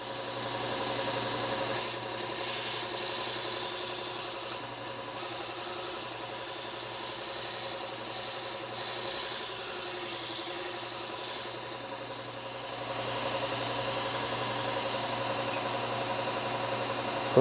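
Shun knives are sharpened on a Bucktool slow-speed bench belt sander, a continuous close hum and grinding hiss of the running belt with slight shifts in pitch as the blade is pressed and lifted, steady throughout with no speech.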